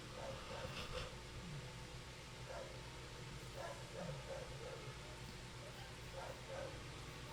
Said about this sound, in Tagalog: para mahuli yung asong kumakahol sa likod